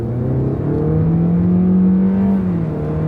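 A Toyota Corolla Apex with a 2-liter engine and a slightly louder exhaust pulls steadily under acceleration, a smooth, continuous mid-pitched roar heard from inside the car that rises and then eases off.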